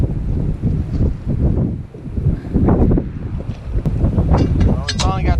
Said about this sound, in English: I'm sure the GoPro's gonna do nothing but wind.